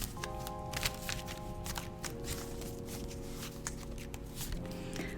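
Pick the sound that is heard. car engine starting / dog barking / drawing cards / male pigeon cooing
drawing cards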